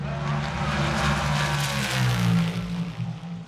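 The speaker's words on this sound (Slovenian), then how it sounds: "Ne, to ni takšen klasičen Chevy Monte Carlo, ampak Camaro, dirkalnik nove generacije iz serije NASCAR, ki je k nam prišel iz Amerike." A NASCAR-series Chevrolet Camaro V8 race car roars loudly and steadily at Le Mans, its deep engine note rising and falling through gear changes across the whole stretch.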